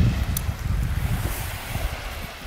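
Light wind at a beach where a stand-up board lesson is underway, a steady low rumble of moving air buffeting the microphone, even and continuous with no voices.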